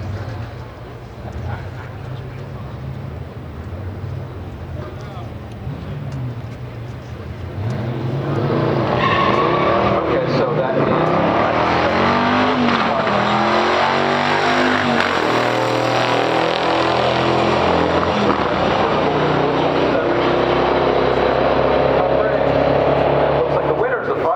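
A 1969 Corvette 427 and a 1973 Firebird Formula 455 in a pure stock drag race: a low engine rumble builds into a loud, sustained roar of hard acceleration that holds steady to the end, with people talking over the noise.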